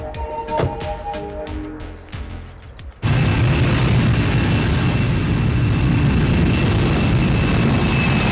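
An airplane in flight produces a loud, steady roar that begins abruptly after a few seconds of music and continues unbroken to the end.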